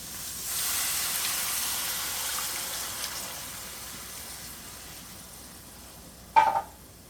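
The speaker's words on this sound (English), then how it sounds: "so we're going to go ahead and add our beef broth" Beef broth poured into a hot pan sizzles and hisses loudly at first, then fades to a soft simmer, with a brief clink of a utensil near the end.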